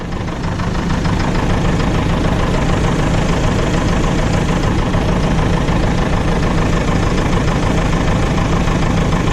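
A MAN horsebox truck engine with a failing alternator runs steadily at a rough idle, a continuous, loud, low rumble with a knocking texture and no pauses.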